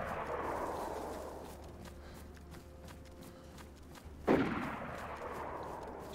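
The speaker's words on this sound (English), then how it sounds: "Oh, definitely two different guns. They're shooting at each other, I think." Gunfire from two different guns in the DayZ video game: a heavy shot rolls into a long fading echo, then another sharp report follows after a pause, both fairly close and loud, with no voices over them.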